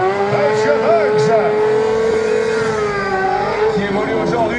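A racing motorcycle of about 200 kg runs on a track at Niort, giving a loud, sustained high engine whine that holds steady through the whole stretch, with faint sounds from elsewhere at the track underneath.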